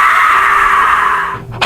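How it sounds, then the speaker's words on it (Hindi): A woman's high, sustained scream as a vengeful yakshini spirit cries out, loud and alone, holding steady before breaking off abruptly near the end. "यक्षिणी चीख उठी,"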